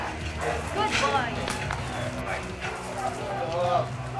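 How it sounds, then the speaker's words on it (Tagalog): A four-month-old German Shepherd puppy in military dog training barks several times at close range, its yaps spread through the clip over steady talk and background noise. "a German Shepherd na puppy na mga nasa 4 months pa lang"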